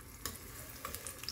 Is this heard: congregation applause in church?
no